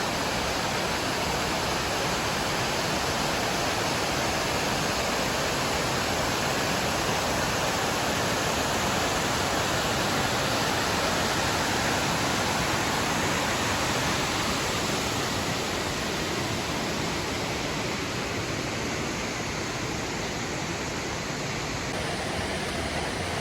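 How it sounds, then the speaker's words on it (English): A river rushes beside the trail to Marble Falls in Sequoia National Park, a steady, loud, broadband roar of fast water that holds constant throughout with no voices. "beautiful river rushing in the background"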